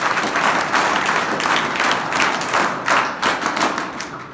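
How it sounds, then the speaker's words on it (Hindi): Steady, dense applause from a crowd, many hands clapping continuously with a few sharper claps standing out, no voices. "जोरदार ताली बजाओ"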